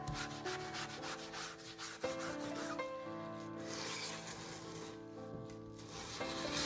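Wood stain is rubbed into wood along the grain, giving faint, continuous close-up scrubbing and swishing strokes with a few light knocks.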